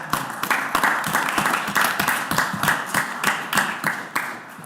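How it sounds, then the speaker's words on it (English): A small audience at a city council meeting claps in a steady, fairly sparse round of applause, individual claps distinct and close, lasting several seconds with no talk. "round of"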